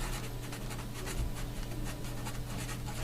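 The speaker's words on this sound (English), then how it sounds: "So let me just write that down" Soft, close scratching of a pen writing a short note, faint rhythmic strokes with low background hum.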